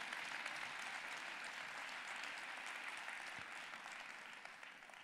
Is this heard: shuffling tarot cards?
no